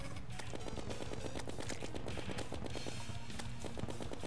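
A weapon in the video game Terraria fires in a rapid, continuous stream of closely spaced shots over steady game music and effects, dense and fairly loud throughout.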